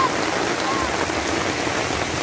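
Heavy rain pours steadily during a delivery drive, a dense, loud, unbroken hiss of drops drumming on the vehicle with no letup.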